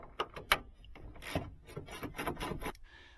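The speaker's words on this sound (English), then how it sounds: "A little shorty ratchet with an 11 millimeter" A short ratchet with an 11 mm socket loosening a side mirror nut on a Ford truck or van, a close series of quick rasping clicks in uneven strokes, ending in a faint hum.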